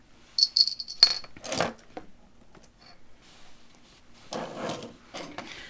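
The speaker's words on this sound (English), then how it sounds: "this little bell ringing is actually called a scissor bell" A few light metallic bell rings from a small scissor bell, then a handful of clacks and knocks, followed by a pause and a brief burst of louder rattling.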